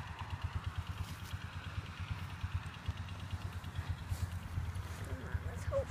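A four-wheeler engine idles and runs steadily nearby, its low throbbing rumble continuous throughout, with faint clatter and occasional voices in the background.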